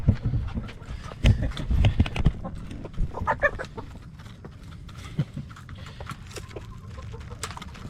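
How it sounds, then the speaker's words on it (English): Hens cluck and squawk excitedly at feeding time, with sharp close clucks and scratching bursts clustered in the first few seconds, then scattered softer calls over a steady rustling background. "All right, let's give these chickens their food."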